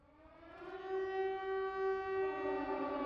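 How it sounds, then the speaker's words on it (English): Ominous town siren from the horror film Silent Hill, a single steady wailing tone swelling up and holding, distant and eerie. "darkness covers the sky as the ominous siren sounds"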